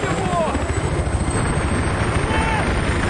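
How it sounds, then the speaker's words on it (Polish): A helicopter taking off in the Battlefield 3 video game, a steady loud rotor thrum with dense chopping texture filling the whole stretch, with someone talking over it. "helikopter startuje?"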